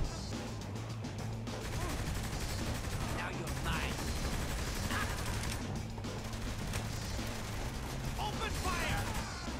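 Rapid gunfire bursts in Saints Row The Third, dense crackling shots over a busy game soundtrack, continuous and fairly loud throughout with brief lulls.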